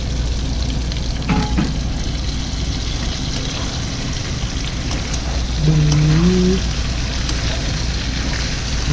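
Shrimp stir-fry with mala chili in a small hot wok with a continuous, close sizzling hiss. A brief tonal sound rises over it near the end.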